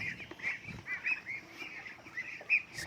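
Several birds calling in short, bright honks and quacks, scattered irregularly over a quiet background, fairly close.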